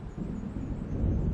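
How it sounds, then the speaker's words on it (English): Low, steady thunder rumble from an approaching storm in Alan Wake Remastered, a continuous deep roll that swells slightly toward the end, heard alone with no voices. "It seems there's a storm coming."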